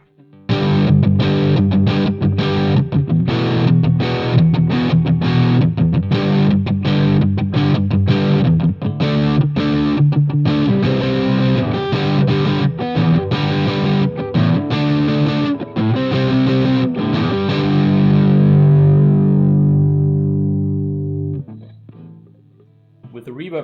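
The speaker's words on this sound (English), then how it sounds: "Get a nice little rock sound out of it." An electric guitar played through a Fame Studio Reverb 50 watt tube amp, strummed loud and steady with distorted rock chords for about twenty seconds before the last chord rings out and fades.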